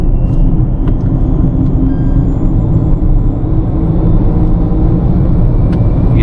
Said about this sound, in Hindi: एक्सेलरेशन में आपको दिखाता हूँ इसका टोटल कितना है।